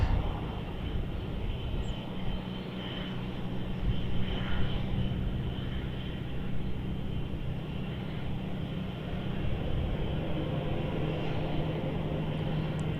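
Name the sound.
Jetstar airliner taking off from runway 34, Melbourne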